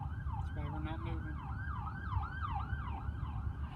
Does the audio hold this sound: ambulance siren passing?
yes